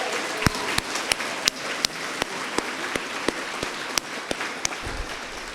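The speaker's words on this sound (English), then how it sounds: "can we give him a round of applause and thank him" Applause from a small audience at an Al-Anon meeting, with a steady patter of claps filling the room and a few louder, sharper individual claps standing out; no talking over it.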